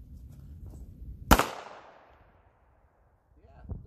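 A single sharp gunshot firing 150 grain Jessie James ammunition cracks out loud and close, then its echo decays over about a second in a quiet outdoor setting.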